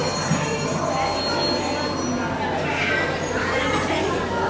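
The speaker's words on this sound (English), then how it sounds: "Northeastern Railway Bobo electric locomotive, number 3 prototype" Recorded sound of the North Eastern Railway Bobo electric locomotive, number 3 prototype, playing as a museum exhibit, a steady broadband rumble with high squealing tones, continuous and fairly loud, with faint voices in the room.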